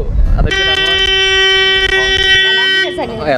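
A ship's horn blasts at a river ferry ghat on the Brahmaputra near Majuli, one loud, sustained tonal honk of about two and a half seconds after a short low rumble.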